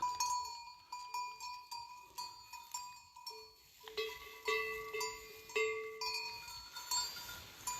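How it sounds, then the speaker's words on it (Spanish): Several cowbells clank irregularly close by while Verata goats graze on grass in the afternoon, with soft rustling and the occasional faint bleat in an outdoor setting. "vaya horas de comer hierba a estas cabras"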